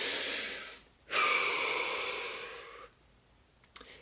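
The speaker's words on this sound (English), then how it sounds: "Deep breath." One slow, deep breath drawn in and let out close to the microphone during a guided relaxation session, an airy rush lasting nearly two seconds, followed by quiet.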